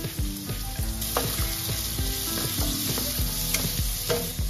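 Finely chopped onion and green chilli fry in hot oil for street-style anda bhurji, a constant close sizzle broken by repeated spatula scrapes and clinks against the pan.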